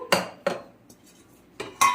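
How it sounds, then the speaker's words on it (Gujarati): A mixer jar is picked up and set down, clinking on a kitchen counter in four sharp hard knocks with a quiet gap between them, close up and alone. "તો સૌથી પહેલાં હવે આપણે મિક્સર જાર લઈ લેશું"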